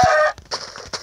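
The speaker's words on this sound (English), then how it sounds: "We'll find a chicken already." A Minecraft chicken gives a short, loud cluck, followed by softer, scattered clucks and small game sounds that end in another brief cluck.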